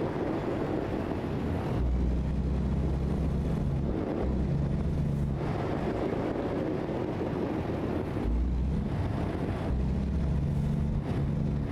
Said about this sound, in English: Am I just driving around a neighborhood in the early morning with a loud truck?